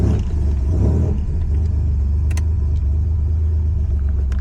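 A Buick Grand National engine idles after a cold start, a loud, close, steady low rumble with a brief rise in the first second before settling into an even idle.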